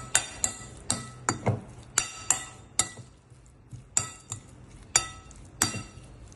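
Spoon stirring garlic, spring onion, Cajun seasoning and cumin in a bowl, with a dozen sharp clinks against the bowl in an uneven rhythm, close and fairly quiet.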